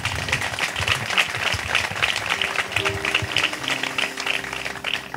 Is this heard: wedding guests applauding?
yes